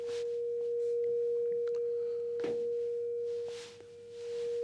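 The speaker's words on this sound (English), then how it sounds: "The signal is now a sine wave" A steady, pure 1 kHz sine test tone from a voltage-controlled function generator holds throughout, with faint clicks and rustling noises underneath.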